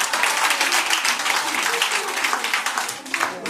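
A church congregation applauding, dense continuous clapping from many hands that fills the whole stretch at a steady loudness.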